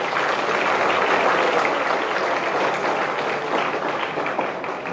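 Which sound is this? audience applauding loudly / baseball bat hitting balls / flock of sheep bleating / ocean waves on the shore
audience applauding loudly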